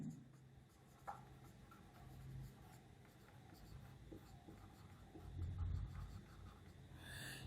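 Pen or marker writing on a surface during an optics lesson, a steady faint scratching with small strokes and taps, close and quiet, against a low background hum.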